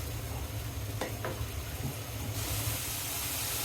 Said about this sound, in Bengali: এখন ধুয়ে রাখা চিংড়ি মাছ দিয়ে দিব। চিংড়ি মাছ একটু কষিয়ে নিব।